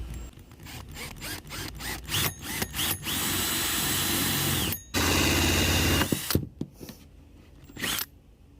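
A power drill bores holes through the hull of a $500,000 boat in short bursts and one longer sustained run, close and loud, with clicks and pauses between passes.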